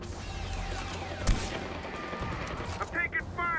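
Gunfire in the video game Far Cry 4, with a sharp close shot followed by scattered distant bursts and some voices talking beneath.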